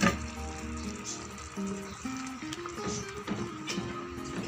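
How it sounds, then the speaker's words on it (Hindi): Red chili powder and spices sizzling in hot oil in a karahi for chicken karahi, a soft continuous fry with faint stirring scrapes beneath a steady tonal hum. "साथ भून लेंगे इसको 2 से 3 मिनट।"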